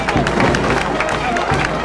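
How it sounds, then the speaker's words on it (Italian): Faithful gathered in front of an hermitage churchyard applaud as the Santa Rosalia procession arrives at her feast, a dense, loud crowd clapping with cheering and murmured voices throughout. "viene accolta dall'applauso dei fedeli che si trovano qui davanti al sagrato dell'eremo"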